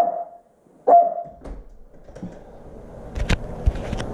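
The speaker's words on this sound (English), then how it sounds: "I'm gonna try and pet the doggy when we get inside, so maybe he'll not bark quite as much." A dog barks indoors with a few short, separate woofs, the first clear and close, followed by scuffling and handling noises.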